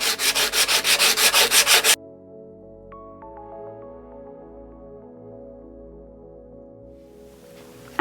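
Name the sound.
sanding stenciled wood with 80 grit sandpaper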